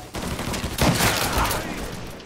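Gunfire in the video game Mafia 3, a dense burst of rapid shots rolling into each other for a couple of seconds, loud and close.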